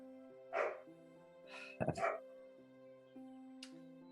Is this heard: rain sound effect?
no